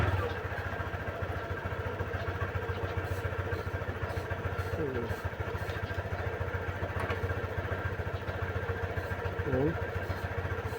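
A Honda Click scooter engine runs at a steady idle after a repair, a continuous close buzzing with a faint rattle, while someone talks over it.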